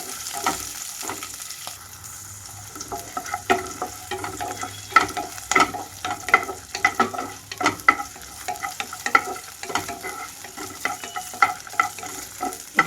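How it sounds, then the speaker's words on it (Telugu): Green and dried red chillies fry in a pan for a drumstick leaves chutney, a steady crackling sizzle broken by frequent scraping stirs of a spoon, close and continuous with no talk. "పచ్చిమిరపకాయలు అలాగే ఎండుమిరపకాయలు వేసి వేయించుకుంటున్నాను."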